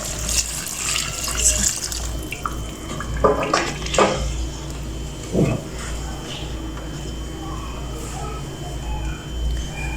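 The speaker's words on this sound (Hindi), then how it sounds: "तो वो 1 लीटर पानी जो हमने लिया था अब हम यहाँ वो इसमें डाल देंगे।" Hot water poured from a measured litre into a pot of simmering chicken nihari in a home kitchen, a steady splashing pour lasting several seconds with a few clanks of utensils and no speech over it.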